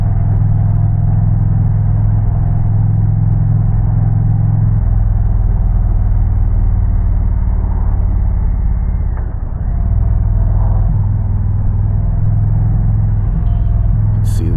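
An Indian Challenger motorcycle fitted with a Powerband Audio exhaust cruises a scenic winding road near Hawks Nest, giving a loud, continuous deep rumble with wind noise, easing briefly and then building again.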